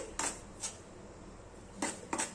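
Sattu roasting in ghee in a pan: a quiet background hum broken by two pairs of crisp metallic clinks and scrapes as a spoon stirs against the pan, with no talking.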